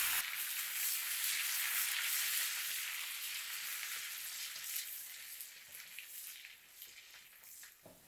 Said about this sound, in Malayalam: സബോള ഇതുപോലെ ഫ്രൈ ആയി കഴിഞ്ഞാൽ പത്ത് തണ്ട് കറിവേപ്പില കൂടി ചേർത്ത് ഒരു മിനിറ്റ് ഇളക്കി കൊടുക്കണം